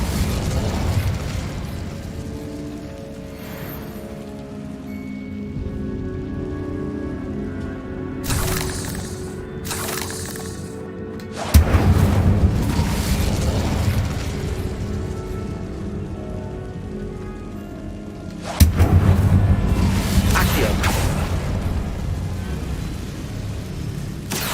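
Incendio fire spell blasts in the Hogwarts Legacy video game: two sudden loud bursts erupt about seven seconds apart over a steady rumbling ambient bed, each followed by a crackling, roaring tail.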